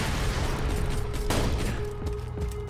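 Gunfire in the video game Borderlands 2: a steady, dense barrage of shots and mechanical clatter, loud and continuous over the whole stretch.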